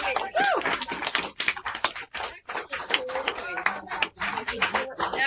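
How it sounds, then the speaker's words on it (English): Students applaud one another after a collaborative found-soliloquy writing session, scattered hand claps popping amid excited overlapping voices and a cheer, the clapping uneven and mixed into lively chatter throughout. "I want you all to clap for each other"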